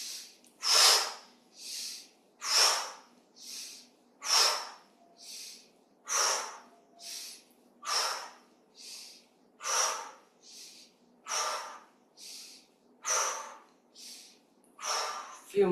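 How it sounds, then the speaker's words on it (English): Slow, deep inhales and exhales of a qi gong breathing exercise repeat in a steady rhythm, about sixteen airy breaths close to the microphone with quiet pauses between. "And we inhale, exhale, inhale,"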